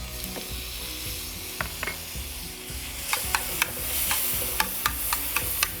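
Onions and garlic sizzle steadily in a hot pan for mushroom lo mein, a close, continuous frying crackle punctuated by sharp clicks of a utensil stirring against the pan.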